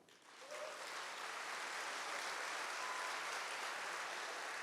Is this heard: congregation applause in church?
yes